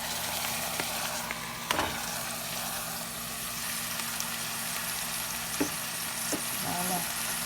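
Smoked fish sizzles as it fries in a pan with a steady crackling hiss. A few brief clicks and scrapes from stirring or utensils break through the sizzle.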